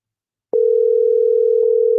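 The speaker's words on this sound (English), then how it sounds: "Answer the phone, John. I'll call him again" A steady telephone tone sounds while a call is being placed, starting abruptly and holding as a loud, unbroken hum throughout.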